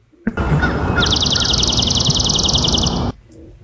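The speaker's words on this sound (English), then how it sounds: "in this case, this was swamp sparrow." A sparrow's even, rapid trill repeats for a couple of seconds over a loud steady background hiss, the bird clear but not very close.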